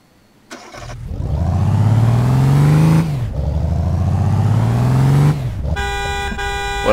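A car engine in the online game APB Reloaded starts and revs twice, each rev rising in pitch and sustained for about two seconds, followed by a short tonal chime at the end.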